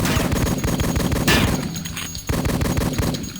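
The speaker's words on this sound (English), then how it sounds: "let's start off with the pistol here" Pistol fire in Duke Nukem 3D, Attrition map Duke's Day: loud, rapid, continuous shots in a dense stream with a short dip partway through.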